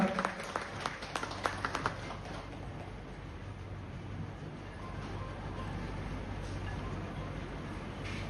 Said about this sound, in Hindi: फिर से तालियों से उनका स्वागत करें।